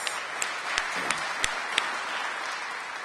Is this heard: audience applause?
yes